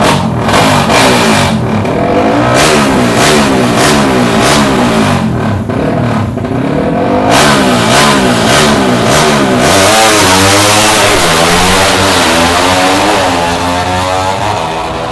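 A loud race car engine revs hard and continuously at a motor show, its pitch rising and falling, with uneven sputtering and cutting out that suggests misfiring, close by.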